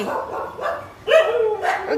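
Several dogs bark in quick, sharp bursts close by, a few rapid yips and barks overlapping over about two seconds, loud against a quiet background.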